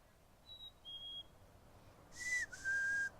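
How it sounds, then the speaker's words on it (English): A black-capped chickadee gives its clear whistled fee-bee call, two pure falling notes heard twice, faint and alone against a quiet background. "Chickadees have this in their Phoebe call"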